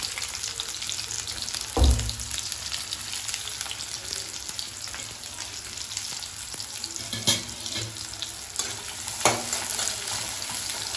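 Onions frying in hot oil for Andhra-style spicy egg noodles give a steady close sizzle, with a few sharper clatters and stirs breaking through.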